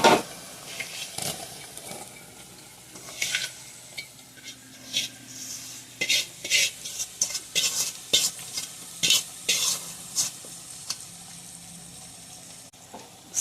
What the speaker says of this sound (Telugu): మనం కట్ చేసుకున్న దొండకాయలు వేసుకుందామండి.